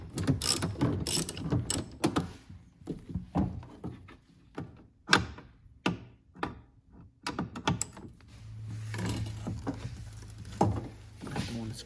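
A ratchet with a 13mm socket works a sway brace bolt loose on a 2015 Chevrolet Suburban, giving repeated close clicking bursts in irregular strokes, with a low steady hum joining near the end.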